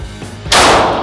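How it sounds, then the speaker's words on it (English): A pistol shot at a shooting range, one sharp, loud report arriving abruptly after a moment of quiet background and ringing out briefly. "just give us a few shots like about this fast"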